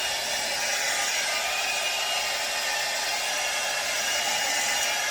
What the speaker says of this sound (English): I'm just going to use the top of, or the bottom part of my hot air brush. And I'm just going to get a little bit of heat.